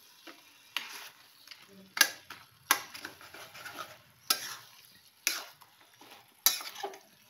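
Food stirred and mixed in a pan for a traditional dish, with a series of separate scraping strokes of a spoon against the pan, each a short burst, close and fairly quiet.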